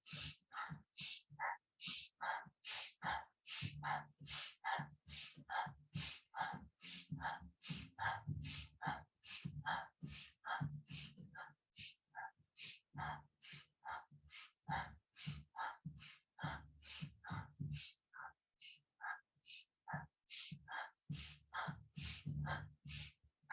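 Fast, rhythmic breathing during a yoga practice, with forceful exhales pumped through the chest in quick, even pulses, close and clear, steady for over twenty seconds with brief pauses.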